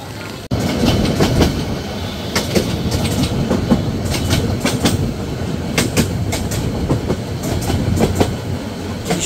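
Cox's Bazar Express train rolling past close by, a steady loud rumble of wheels on rails with repeated sharp clickety-clack hits over the rail joints throughout.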